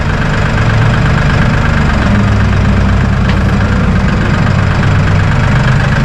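Massey Ferguson 1800E compact tractor engine idling at 1,000 RPM, a loud, steady low rumble with a constant rhythmic diesel chug and no pauses.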